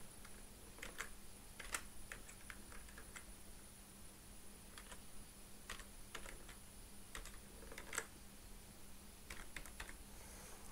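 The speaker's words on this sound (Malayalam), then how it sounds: "പാസ്വേഡും തെറ്റുകൂടാതെ ഇവിടെ ടൈപ്പ് ചെയ്യുക." Keys tapped on a computer keyboard while a password is entered into an online form, quiet irregular clicks in short bursts over a faint steady hum, with no talking.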